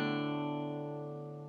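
One strummed guitar chord in a simplified three-string shape rings clearly and alone, then decays gently across its brief duration. It belongs to a song lesson.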